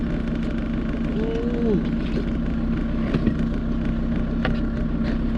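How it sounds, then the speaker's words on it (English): A campervan engine idles steadily with a low, constant hum and rumble while parked in the Western Sahara Desert, with faint wind noise; a brief exclamation is heard once. "I also don't dare turn the engine off, and I'm stopped here just in case it doesn't turn back on."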